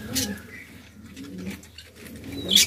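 Pet doves coo softly nearby while they are given nesting material, with a few low, rolling coos spread across a quiet background and a brief high chirp at the end.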